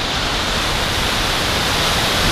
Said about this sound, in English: Waterfall in the background.